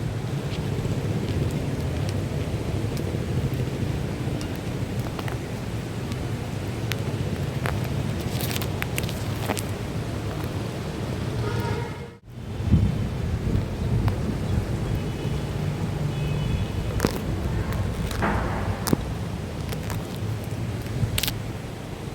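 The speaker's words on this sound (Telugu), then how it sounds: "ఫస్ట్ అయితే వర్షం చూద్దాం" Steady, heavy monsoon rain pours outside an Indian house, with gusty wind buffeting the microphone and low thunder rumbling through a continuous wash of noise; a brief dropout falls midway, and no one speaks.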